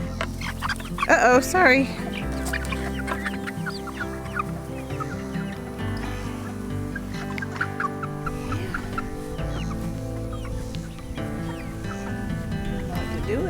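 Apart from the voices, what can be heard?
chickens clucking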